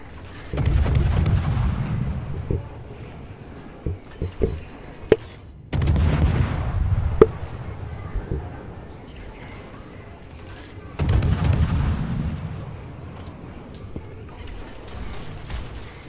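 Warship main-battery salvos in World of Warships, three loud booming volleys spaced several seconds apart, each rolling into a decaying rumble, with quieter battle noise and occasional sharp cracks in between.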